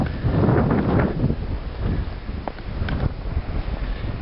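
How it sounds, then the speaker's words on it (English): Gusty wind buffets the microphone on a beach beside a gill net, a constant rough rumble with a few sharper bursts, heard alone without talk. "Sorry about the wind."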